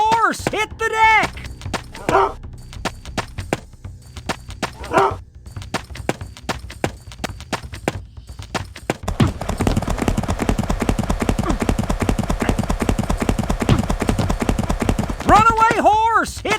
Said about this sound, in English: Runaway horse! Hit the deck!